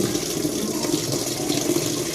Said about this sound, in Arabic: برنامج الغسيل ده في بدايته الغسالة بتعمل ايه؟ بتسحب ميه الاول.